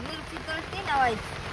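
Steady rain patters on a surface while a voice talks over it.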